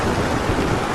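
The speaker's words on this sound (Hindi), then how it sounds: "आखिर में मीनू मौसी का घोंसला भी तेज बारिश के कारण पानी में बह गया" Heavy rain and flood water: a brief, loud, dense hiss of downpour and rushing water, steady and close, with no pause and no voices.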